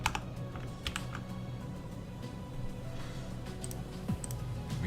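Fast clacking keystrokes on a mechanical computer keyboard run continuously and fairly close, a busy irregular patter of individual key hits with no talking over it.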